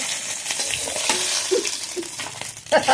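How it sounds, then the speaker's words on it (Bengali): Crab frying in hot oil with a busy sizzle and sharp crackles and pops, a few louder spits near the end, close up with no voices. "তেলের মধ্যে ক্যাংড়াটা ফাটছে খুব জোরে"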